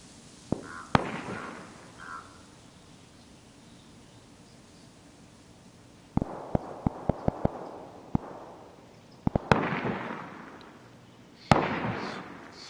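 Lapua rifle shots in the survival shooter DayZ, sharp cracks followed by rolling echoes, a few isolated reports and a rapid cluster of distant pops over faint wind-like hiss.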